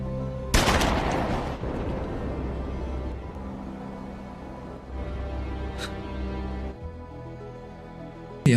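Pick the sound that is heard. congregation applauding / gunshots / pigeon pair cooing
gunshots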